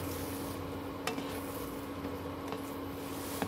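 Eggs with coconut milk scrambling in a pan, a faint steady sizzle under a couple of light utensil taps against the pan, heard close with no voices.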